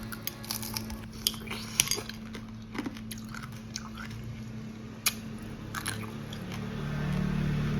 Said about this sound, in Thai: มาเริ่มกินกันเลยทดสอบก่อนเลยนะคะ ความกรอบ